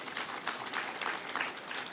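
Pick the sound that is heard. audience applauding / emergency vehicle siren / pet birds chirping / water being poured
audience applauding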